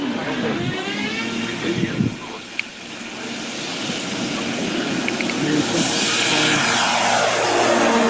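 Large RC model airplane with a 4 meter wingspan, likely powered by two 24-volt batteries, flying a pass at an RC flying event; a steady airy engine and propeller drone that swells louder toward the end, with wind hiss throughout.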